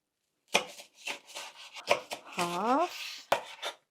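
A knife chops spring onions on a cutting board in a series of crisp, close, irregular strikes, with a short squeaky rising tone in the middle.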